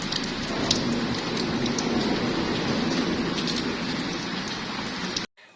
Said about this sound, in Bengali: বৃষ্টি তো খুব সুন্দর হচ্ছে